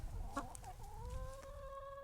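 Chickens cluck near a homemade wooden chicken house on a family homestead, a few soft close clucks followed by a drawn-out rising call, quiet against low outdoor rumble and no talk.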